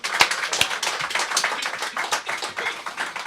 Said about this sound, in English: I love the applause